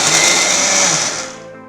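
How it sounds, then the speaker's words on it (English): A kitchen mixer grinder whirs loudly as it blends roasted Bengal gram powder with jaggery powder for maa ladoo, a steady high motor hum that winds down near the end. "So we'll grind this together."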